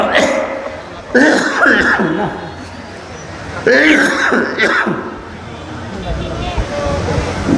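A man coughs and clears his throat from dust, several loud harsh bursts close by, with background noise in between.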